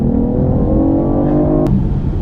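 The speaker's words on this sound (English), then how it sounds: "So from a standstill, a little bit of gas, and we're open." A 2015 BMW i8 hybrid sports car pulls away from a standstill, its loud, close engine drone holding steady and rising slightly before a brief click.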